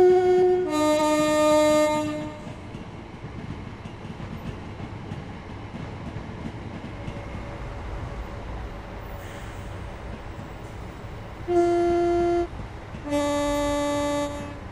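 Class 387 Gatwick Express train in Train Sim World 2 at London Victoria sounding a loud two-tone horn at the start and twice more near the end, with a low rumble of the train moving off between the blasts.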